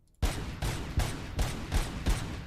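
Explosive Doom rounds fired in the video game Robocop: Rogue City, six heavy booming shots in a steady rhythm about every 0.4 seconds, loud and close, each with a deep thump and a broad crackling tail.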